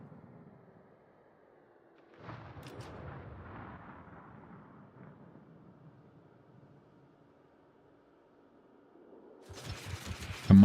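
Naval guns fire in World of Warships: a heavy boom at about two seconds rolls off into a long fading rumble, then a second loud salvo erupts near the end, with quiet stretches between.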